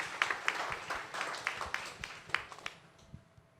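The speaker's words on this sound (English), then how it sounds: "let's give Patrick another round of applause" An audience at a startup pitching session gives Patrick another round of applause, with scattered distinct claps over a softer bed of clapping, fairly close, gradually thinning out toward the end.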